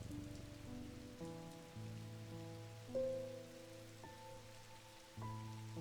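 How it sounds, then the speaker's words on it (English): Steady rain pours on a surface in the video game Strange Antiquities during a thunderstorm, a continuous soft hiss running alone beneath sustained musical tones, with no distinct thunder crack standing out. "It's thunderstorming."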